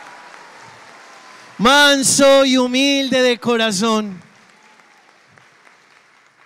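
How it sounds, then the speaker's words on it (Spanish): At a Palm Sunday Mass in a church, the congregation claps, and the applause is mostly masked by a loud voice singing or speaking over it. "Aplauso para Jesús."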